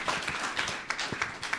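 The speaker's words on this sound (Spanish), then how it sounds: "Un aplauso para el Señor" A church congregation in Bonaire claps for the Lord during a worship service, a faint, steady patter of many hands with a few sharper claps standing out.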